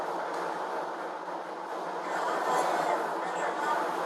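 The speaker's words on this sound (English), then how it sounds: "Red Line, Fannin South train." Steady rumble and rushing hiss of a Red Line Fannin South light rail train in motion, heard from inside the car as a continuous, moderately loud ride noise with no clear voices.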